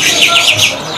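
Zebra finches chirp rapidly in a busy, overlapping chatter of high, nasal tweets, close and fairly loud.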